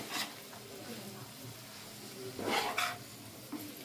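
Spring onion greens go into a hot pan with a soft, low sizzle, punctuated by a few brief stirring scrapes and clatters near the middle and end.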